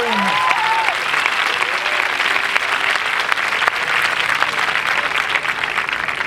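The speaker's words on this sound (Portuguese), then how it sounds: "Pode aplaudir Jesus, que é Deus, mano." A church congregation applauds during a sermon, a steady dense wash of clapping that holds at full volume from start to finish.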